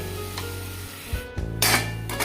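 A tomato mixture is stirred in a cooking pan at a home-style Bengali kitchen, with a few scraping, rubbing strokes of a utensil against the pan and soft sizzling close by, with no talking.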